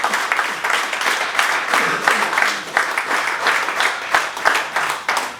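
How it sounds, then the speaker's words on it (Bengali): An audience applauds a school headmaster on his arrival at a programme, a steady wash of many hands clapping at once that carries on without a break, fairly loud, with no one speaking. "স্যারের জন্য সর্বোচ্চ করতালি আশা করছি"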